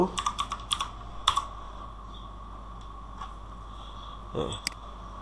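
Quick bursts of keystrokes clack on a computer keyboard at close range, a fast run of taps at the start, then a few scattered presses over a faint background hum.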